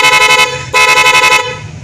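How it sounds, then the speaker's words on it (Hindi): A motorcycle horn being tested after repairing the handlebar switch assembly gives two loud, close, buzzing honks, each just under half a second, with a short gap between. "उसके बाद हम हॉर्न को चेक कर लेंगे यहीं पे।"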